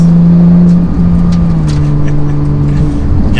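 A Porsche 911 GT3 engine drones loud and steady from inside the car as it rolls over bumps on firm suspension, with a low hum and faint thumps and knocks over the top.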